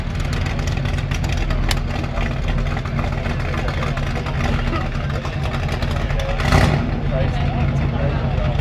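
A GT Ford Falcon doing a burnout at a Revheads event in Narrogin, its engine droning loudly and steadily while a commentator talks over it, with a brief surge near the end.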